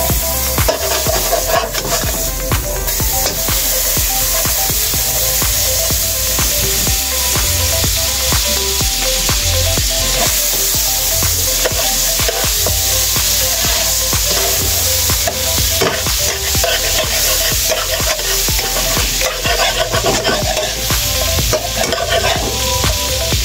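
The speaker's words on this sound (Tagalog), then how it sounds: "mainit na mga idol yung kawali natin, yung margarine ipanggisa natin mga idol para mabango" Margarine sizzles loudly and steadily in a hot wok as aromatics are sautéed for a pork piglet adobo, with stirring and scraping running through the whole stretch.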